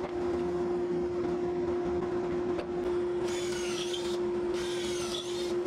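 A drill bores pocket holes with a jig into the ends of 22.5-inch wooden frame pieces for a cornhole board. A steady motor hum runs throughout, and two loud, grinding bursts of drilling come near the end.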